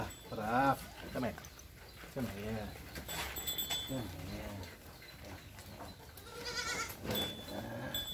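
Goats in a goat stable bleat repeatedly, several loud wavering cries close by at uneven intervals, while people talk quietly in the background.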